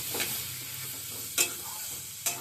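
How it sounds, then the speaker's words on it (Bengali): Mustard, poppy seed and green chilli paste sizzling softly in a pan, with two sharp scraping strokes of a spatula stirring it against the metal, no voices. "এবার একটু নাড়বো"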